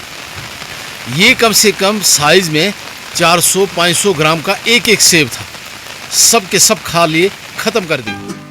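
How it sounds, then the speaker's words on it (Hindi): Heavy rain drums on an umbrella in a Himalayan mountain village, a constant close hiss and patter running beneath someone talking throughout. "इस वक्त बारिश बहुत तेज़ हो गई है। छाते पर बारिश पड़ रही है,"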